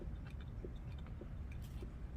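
A person chews food close to the microphone, producing soft wet squishing bites in an irregular rhythm over a steady low background hum.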